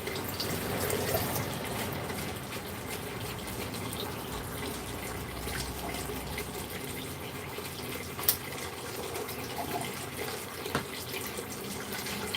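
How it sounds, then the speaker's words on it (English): Dishes being washed up under a running tap, with a steady close rush of water and a few faint clinks over the flow, and no talking. "I hate washing up"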